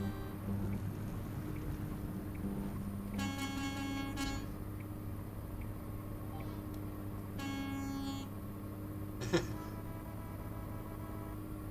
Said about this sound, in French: j'ai un pignouf derrière moi qui arrête pas de klaxonner là